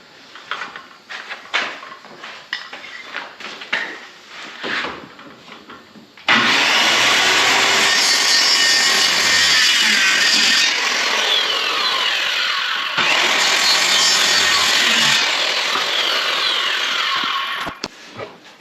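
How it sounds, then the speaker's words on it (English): A saw cuts into the wooden frame of an interior door in long, loud, continuous passes with a short pause in the middle, after some scattered handling knocks and scraping. "We're actually going to cut into the door just a little bit when I cut this"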